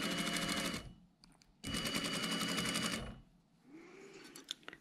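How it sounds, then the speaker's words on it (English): A sewing machine stitching a jacket seam over pins runs in two loud steady bursts of about a second each, with quieter handling sounds after them. "with the pins horizontal at 90 degrees to our foot, we can gently stitch over them"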